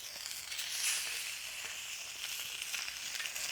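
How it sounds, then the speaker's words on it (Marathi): Rohu fish sizzling in hot oil on a griddle, a bright continuous crackle with small pops, fairly close and moderate in volume. "एक एक मासा मस्त तव्यावर फ्राय करण्यासाठी ठेवून घेऊ"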